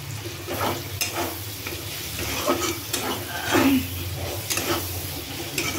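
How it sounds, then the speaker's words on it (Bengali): Onions with a pinch of salt fry in a pan for chicken kosha, a steady close sizzle broken by rhythmic scraping stirs of a spatula. "একটু আমি লাল লাল করে ভেজে নেব, তারপরে বাকি মশলাগুলো দেবো।"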